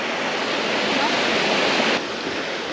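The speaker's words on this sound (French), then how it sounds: "Regardez cette cascade si elle est belle." The Cascade d'Ars waterfall at Aulus-les-Bains, frozen and set in snow, produces a constant broadband roar of rushing water that stays loud and steady, dipping slightly near the end.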